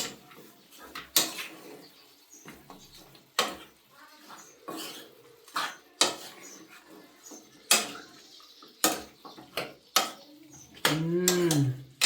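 A spoon stirs mutton curry in a cooking pot, producing a series of sharp metallic clinks and scrapes in an irregular rhythm, with soft handling sounds between them. A short vocal sound comes near the end.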